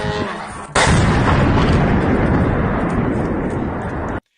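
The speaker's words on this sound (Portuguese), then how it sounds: "Isso aqui foi numa fábrica de drones na região de Moscou, essa grande explosão, né?" A large explosion at a drone factory in the Moscow region strikes suddenly and loud, then rolls into a dense, sustained roar lasting several seconds before cutting off abruptly.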